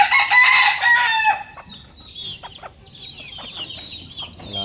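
Chickens at laying nests on a backyard farm: a loud rooster-like crow or squawk opens the clip, then scattered hens' clucks and short calls continue at moderate distance, with no talking.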